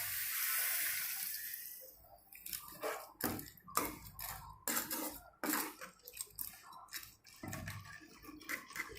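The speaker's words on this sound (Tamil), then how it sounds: "இந்த நண்டு வேகிற அளவுக்கு கொஞ்சம் தண்ணி ஊற்றிக்கலாம்" Water splashes and gurgles as it is poured into a cooking pot of crab, with uneven wet sloshing bursts and a brief hiss of running water at the start.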